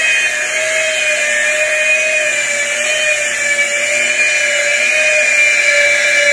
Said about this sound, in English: buffer's quite big for this type of work, but it's what I have.